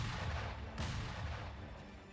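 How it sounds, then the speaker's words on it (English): Enemy gunshots in Sekiro: Shadows Die Twice, heavy booming reports with one sharp blast standing out amid a continuous rumbling wash, no talking. "Watch out for all the shots"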